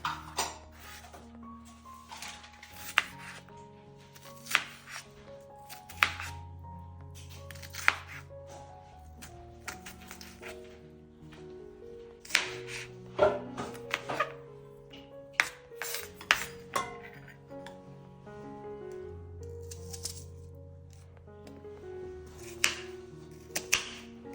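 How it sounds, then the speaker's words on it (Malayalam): A knife chops two onions on a board in a home kitchen, with quick bursts of sharp, crisp taps separated by short pauses, steady and close throughout. "ഒരു രണ്ട് സവോള അരിഞ്ഞെടുക്കുന്നുണ്ട്"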